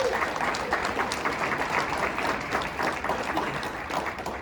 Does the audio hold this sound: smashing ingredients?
no